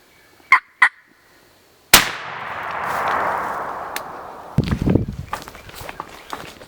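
Two brief wild turkey gobbles ring out in quick succession in an Alabama woodland, then a close, loud crack gives way to a rustling, shuffling noise with scattered footsteps nearby.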